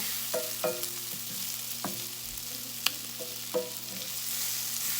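Onions and sweet potatoes sizzle in a pan, with a steady soft frying hiss broken by a few clicks and scrapes of stirring close by.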